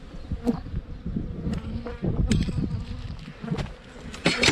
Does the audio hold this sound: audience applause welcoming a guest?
no